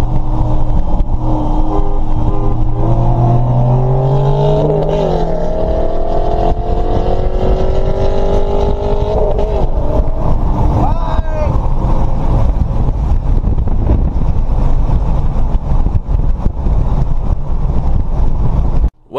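A Pontiac GTO drag races a turbocharged car from a hard launch, engines climbing in pitch as they accelerate and fade under heavy wind buffeting on the microphone.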